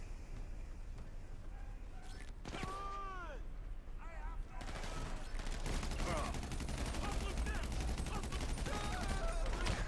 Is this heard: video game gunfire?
yes